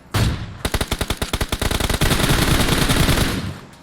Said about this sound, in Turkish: Bir tane vurdum. Bas mermi bas.